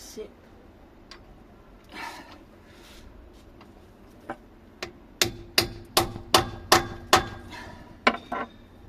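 A hammer taps a socket onto a locking wheel nut on a Peugeot, first a few scattered knocks, then a run of about eight sharp, ringing metallic strikes at a steady rhythm, fairly close.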